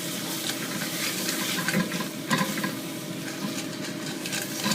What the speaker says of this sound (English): And we got to keep on letting it simmer.